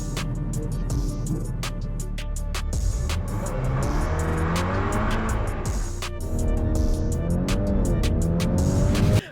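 2026 Volkswagen Golf R accelerating on a test drive, a loud rising engine note climbing through gears with sharp shift breaks and some tire noise, heard close and steady for several seconds.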